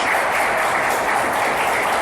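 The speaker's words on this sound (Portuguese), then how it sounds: "Diga graças a Deus, aplauda o Senhor Jesus bem forte." A church congregation applauding loudly during a Portuguese-language worship service, dense steady clapping that fills the room without a break.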